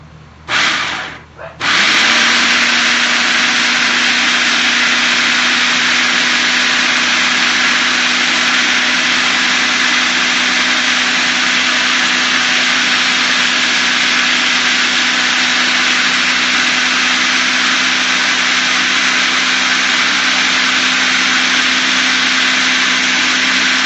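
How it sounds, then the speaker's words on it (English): A countertop blender whirs steadily and loudly, blending tofu mayonnaise with agave nectar, starting after a brief pause and running continuously to the end with a steady motor hum. "Scrape this down off the sides and blend it a little bit more."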